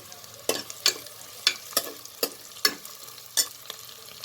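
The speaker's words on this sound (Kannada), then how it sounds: "5 ನಿಮಿಷ ತನಕ ನಾನು ಇದು ಹುರಿತೀನಿ" Ingredients for masala jeera rice are stirred in a frying pan, a ladle scraping in a steady rhythm of about eight distinct strokes over a low sizzle, close and fairly quiet with no talking.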